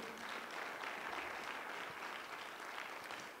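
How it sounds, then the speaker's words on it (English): Church congregation applauding during a worship service, sustained dense clapping from many hands heard at a distance, fairly soft and even throughout. "Clap for the Lord."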